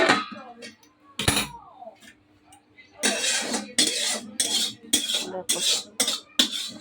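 Shukto, a Bengali vegetable curry, poured and scraped from a pan into a serving dish: a run of close clinking and scraping strokes of a metal spoon against the pan after a brief spoken word and a sharp knock.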